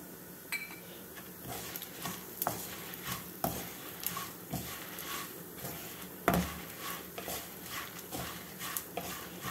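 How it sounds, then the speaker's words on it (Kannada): Tamarind and salt are stirred into a red chutney mixture in a pan on the stove, giving repeated scraping clinks of a spoon against metal at a steady rhythm, close and moderately loud. "ಈಗ ಇದಕ್ಕೆ ಹುಣಸೆ ಹಣ್ಣು ಮತ್ತು ಉಪ್ಪು ಹಾಕಿ ಮಿಕ್ಸ್ ಮಾಡೋಣ"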